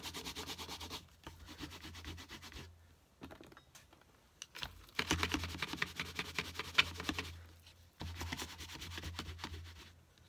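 Repeated rubbing and wiping of an object, first with a wet side and then a dry side, in a run of close, scratchy strokes that pause and resume several times.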